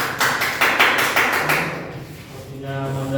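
A small class claps briefly for a student after a spreadsheet presentation of grades. Several quick, close claps come in a burst over the first half, then fade into faint room noise and a soft tone.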